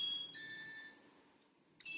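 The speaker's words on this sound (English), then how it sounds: "I'm sorry for that sound, for that noise of the phone that I can't get up and" A mobile phone rings with a bright electronic ringtone that holds steady, fades, then starts a new ring, heard alone and fairly close.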